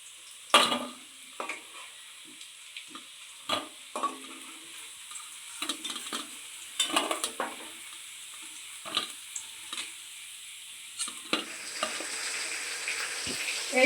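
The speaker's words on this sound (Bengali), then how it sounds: "আর বাদ বাকি সব পকোড়াগুলো আমি ভেজে নেব" Chicken pakoras frying in hot oil give a steady soft sizzle, broken by sharp clinks and scrapes as pieces are stirred and turned in the pan.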